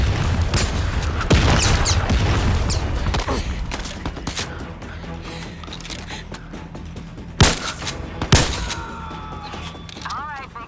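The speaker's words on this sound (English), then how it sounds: "this isn't very realistic artillery" Artillery fire in the Zero Caliber video game, with two sharp heavy booms near the end standing out over steady scattered gunfire and battle noise.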